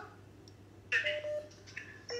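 Telephone ringing and dialing tones on a poor-quality WhatsApp call, with short tonal beeps and a brighter burst in the middle over a low steady hum, fairly faint.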